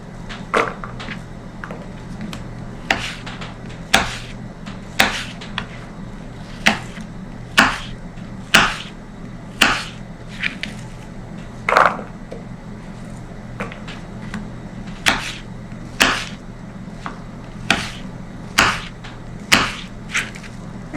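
A knife chops through apples on a board, sharp irregular thuds repeating every second or so, close by with a low hum behind.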